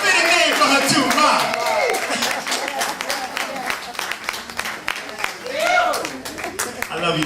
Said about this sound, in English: Give her a round of applause, Ma